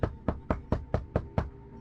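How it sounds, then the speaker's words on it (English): Seven evenly spaced knocks on a door in a quick, steady rhythm, each a sharp close thud with a brief ring, heard alone. "I heard another knock"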